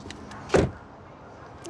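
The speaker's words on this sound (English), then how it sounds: "Let's listen to the sound of the closing door." A 2025 Toyota Camry XSE hybrid door shuts with a single solid thud close by, followed by quiet background hum.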